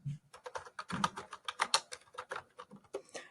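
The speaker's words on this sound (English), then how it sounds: "Step 13 says press enter and type the next 2 bullets." Fast, steady typing on a computer keyboard while entering bullet points into a Microsoft Word 2019 brochure, with close, crisp key clicks in a dense run and no talk.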